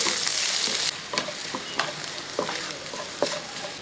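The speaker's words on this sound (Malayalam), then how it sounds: "ഇതൊന്ന് ഇളക്കി കൊടുത്ത് ഇഞ്ചി ഒന്ന് കുറച്ച് വെക്കാം" Chopped ginger and garlic fry in a pan with a bright hiss that fades after the first second, followed by several rhythmic scrapes and taps of a spoon stirring.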